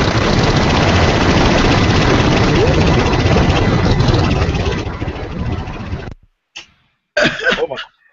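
Loud, harsh roaring crash blasts over a microphone as an airplane-crash noise, distorted and continuous for about six seconds before cutting off, followed by a couple of short bursts.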